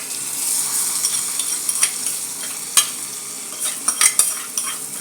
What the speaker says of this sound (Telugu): ఇందులోను ఈ పోపు అంతా వేసేసుకుందాం